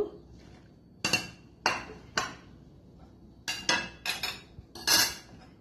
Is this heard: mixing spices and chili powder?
yes